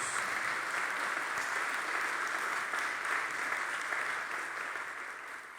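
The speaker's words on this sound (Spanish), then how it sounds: "Dar un fuerte aplauso al poder del Señor Jesús." Loud, sustained applause from a large church congregation, steady and dense throughout, tapering slightly at the end.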